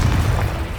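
In Hogwarts Legacy, a Confringo explosion spell bursts in a short, loud, low boom that fills the whole moment with a muffled blast and no voices.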